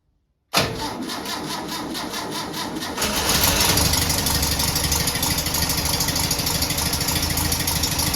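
A VW T1 split screen bus engine cranks and fires up in a garage test after installation, then settles into a loud, steady running drone with a rough, rattling edge that grows louder after a few seconds.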